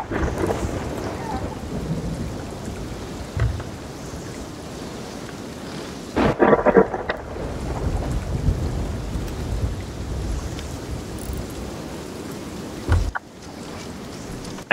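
Thunderstorm over the sea in a video game, steady heavy rain with water sloshing and a couple of sharp thunder cracks, loud and continuous without talk.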